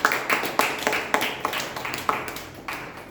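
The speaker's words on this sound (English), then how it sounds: "Let's have a round of applause for all the role players." A small Toastmasters club meeting audience gives a brief round of applause for the meeting's role players, a few people clapping in a loose, uneven rhythm that fades out within a few seconds.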